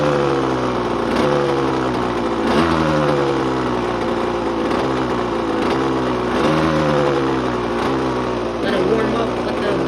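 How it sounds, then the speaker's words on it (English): A 1989 Suzuki RM80 dirt bike idles steadily and loudly up close, its two-stroke engine putting out a continuous buzzing drone with small periodic surges every second or so. "You can let this idle for a little bit."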